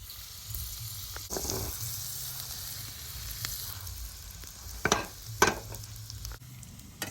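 Turkey burger patties fry in butter in a pan with a steady close hiss and crackle, broken by a few louder spatters and scraping clatters as they are flipped.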